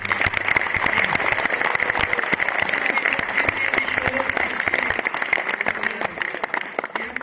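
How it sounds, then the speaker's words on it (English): A university audience claps in sustained, energetic applause, the crisp individual claps forming a dense, even wash that continues without pause throughout. "I think we can increase the volume of your claps if we just try."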